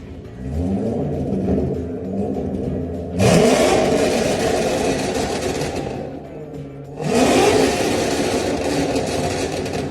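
A car with a modified, less restrictive exhaust revs up hard twice, each rev jumping to a loud, raspy roar before settling back to a rumbling idle, close by with no talk.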